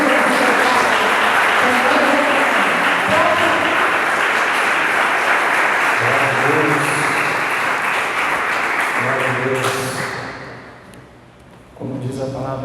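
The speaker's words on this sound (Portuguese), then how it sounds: "Vamos aplaudir o Senhor em nome do Senhor de Jesus." A church congregation applauds in worship, dense sustained clapping filling the room for about ten seconds with voices mixed in, then fading out before a brief renewed burst near the end.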